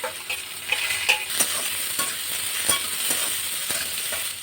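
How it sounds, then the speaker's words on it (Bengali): Asafoetida, chopped onion and green chilli frying in hot oil, a loud close crackling sizzle with quick stirring scrapes and small pops running throughout, no voices. "দিয়ে দেব পেঁয়াজ কুচিগুলো, দিয়ে দেব লঙ্কা কুচি"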